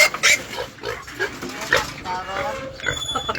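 Pigs grunting and squealing in short irregular bursts close by on a farm during a pickup, with voices talking intermittently over the animals.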